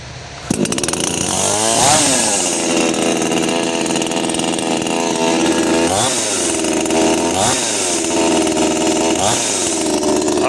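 A Dnipro-M petrol chainsaw starts up and runs loud and close, idling with a buzzing drone broken by four sharp revs that rise and fall in pitch, with no voices over it.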